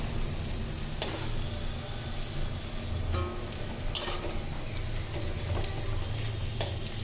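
Moringa flower fritters made with rice flour and gram flour frying in oil, with a steady close sizzle and occasional light clicks of a utensil, continuing throughout with no talk.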